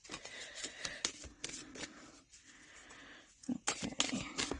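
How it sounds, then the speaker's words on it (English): Large pick-a-card reading cards are shuffled in quick bursts of papery riffling and slapping, pausing briefly midway before resuming close to the microphone. "I'm just going to shuffle them this way."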